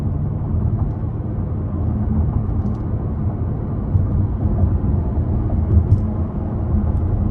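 Jaguar F-Type P450 R-Dynamic, 2024, pulling hard out of a corner with a downshift: a steady, loud low engine rumble from inside the cabin, holding strong throughout with a slight swell near the end.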